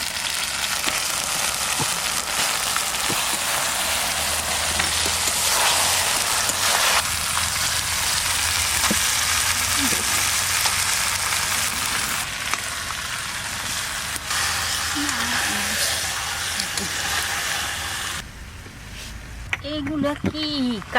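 Chicken frying in a pan for a village-style chicken maharani makes a loud, dense, continuous hiss for the whole stretch. A voice speaks briefly near the end.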